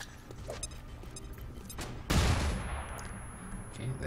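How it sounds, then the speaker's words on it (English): A flashbang and gunfire sound in XCOM 2: Long War 2, with a loud burst and crackling fire hitting suddenly midway and ringing on above a busy, gritty game background. "Flashbang!"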